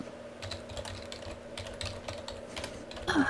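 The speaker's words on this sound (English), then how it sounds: "Is someone typing in baby that will never die or something?" Computer keyboard typing in quick irregular bursts of clicks, close and fairly clear over a steady low hum, with no talking.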